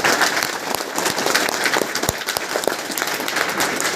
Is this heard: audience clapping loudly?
yes